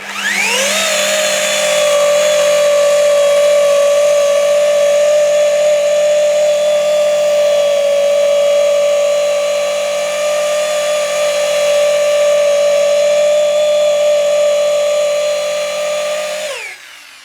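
Rotary polishing machine running continuously on car paintwork with Koch-Chemie polishing compound, a steady loud high-pitched whine that spins up at the start and winds down at the end, alone without talk.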